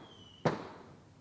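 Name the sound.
fireworks going off outside on 4th of July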